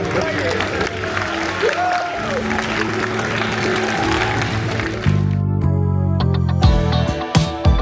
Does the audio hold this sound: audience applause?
yes